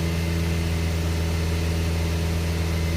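A Nissan Z24E engine in a 620 pickup is held at about 2500 RPM, producing a steady, loud droning hum with a strong low tone and no change across three seconds.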